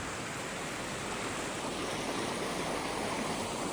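Continuous rushing water from the Kaveri river near Kushalnagar, a dense steady roar like rapids, fairly distant and even in level with no speech.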